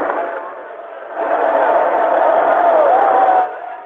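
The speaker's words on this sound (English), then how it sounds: "Giving him a pretty good round of applause considering, except for the left side of the room." At a State of the Union address, a large chamber audience applauds and cheers in a muffled, broadcast-quality roar that swells partway through, holds steady, then drops back, with a voice talking over it.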